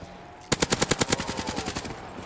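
A death machine with infinite ammo fires in a zombie video game set in Bikini Bottom, a single rapid burst of about thirteen loud, evenly spaced shots that fade slightly toward the end.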